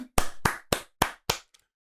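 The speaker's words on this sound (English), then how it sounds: "Let's clap it up." Five sharp, evenly spaced hand claps from one person, close and loud, followed by a faint sixth tap, with silence between each.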